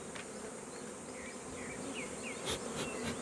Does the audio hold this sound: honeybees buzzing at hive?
yes